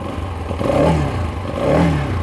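Lifan KPS 200 fuel-injected 200cc motorcycle engine revving nearby, a steady rough idle swelling into two throttle blips with a low droning tone and mechanical clatter, no talking.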